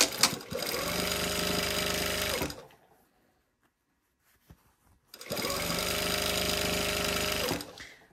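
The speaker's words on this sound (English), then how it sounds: "I'm just gonna sew all the way down the seam, sew those together, right sides together at that seam" A sewing machine stitches a waistband seam on a pair of pants in two sustained runs of rapid whirring, separated by a quiet pause of a few seconds with a faint click.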